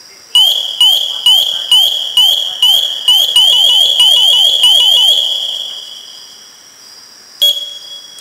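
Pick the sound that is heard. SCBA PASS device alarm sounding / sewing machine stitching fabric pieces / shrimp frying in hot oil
SCBA PASS device alarm sounding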